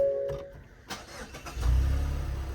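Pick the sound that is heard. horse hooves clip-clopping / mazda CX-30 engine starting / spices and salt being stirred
mazda CX-30 engine starting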